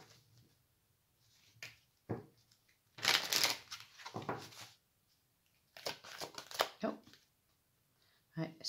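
Cards handled on a table during a card reading, with bursts of shuffling, sliding and flicking between quiet pauses, close and fairly crisp.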